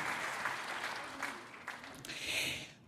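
A crowd at a Rotary Club holiday program in San Diego gives a round of applause: soft, moderately distant clapping that holds steady and swells slightly near the end.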